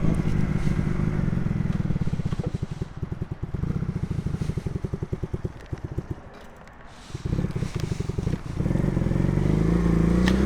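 A Honda CD200 motorcycle engine runs steadily up close with a rapid irregular chugging beat and occasional popping, under wind buffeting on a road test.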